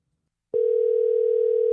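A steady telephone dial tone starts abruptly after half a second of silence and holds unbroken, clear and close, as a phone call begins.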